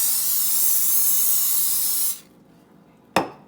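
A steady spray of cooking oil onto a skillet hisses for about two seconds, then stops; a moment later a sharp short sizzle or hiss bursts out and quickly fades.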